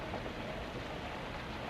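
Rain shower falling outdoors makes a dense, constant broadband hiss, fairly loud and unbroken throughout, with no voices.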